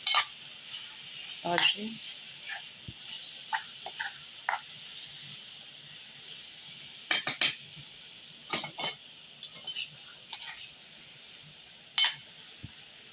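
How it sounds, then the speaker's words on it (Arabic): Kebab and liver fry in a pan for a tagine while a utensil stirs them, making scattered scrapes and clinks over a faint, quiet sizzle; a voice speaks briefly. "راه بدا داكشي كيتقلى"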